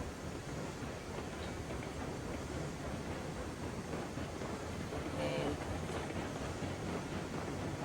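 A train rolls slowly into the iron ore mine in RAILROADS Online, a faint, steady rumble of wheels and rail noise held low throughout, with no sharp events.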